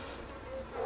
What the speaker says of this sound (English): So the bees are lovely and calm